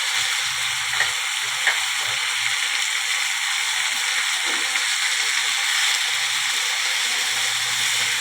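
Curry leaves and coriander leaves sauté in hot oil in a pan for a chutney, giving a steady close sizzling hiss with a few sharper crackles and faint stirring scrapes, no voices.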